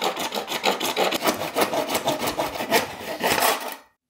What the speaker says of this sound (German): dann am besten eine einfache Feile zur Hand nehmen und das Ganze natürlich auch noch dementsprechend entgraten